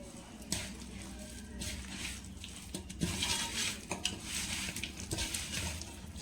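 Fish being mixed with pink rock salt in a pan, with soft scraping and clinking of a utensil against the pan and a faint wet shuffle, in several uneven strokes at close range.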